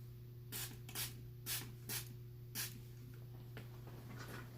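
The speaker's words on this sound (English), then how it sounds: "I already have some mist spray and I'm going to set my face." Several short hissing bursts of a face setting mist spray, five quick sprays spaced across a few seconds, close and fairly loud over a steady low hum.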